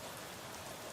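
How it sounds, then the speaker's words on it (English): Rain pours through an open hatch in a dense, steady hiss of drops pattering on a helmet and gear, loud and close, with no voices. "A curtain of rain fell through the opening, pattering on my helmet and gear."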